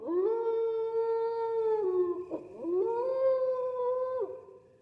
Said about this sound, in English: A lone howl rose in the distance and was joined by the echoing cries of the dogs near the mansion.